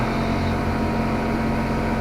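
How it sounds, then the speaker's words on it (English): Air compressor running steadily nearby, a continuous, fairly loud mechanical hum with a low throbbing pulse and no pauses. "Got the compressor turned on."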